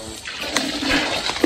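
Water sloshed from a dipper over a car during a car wash, a brief loud splash and pour of water close by, with no talk.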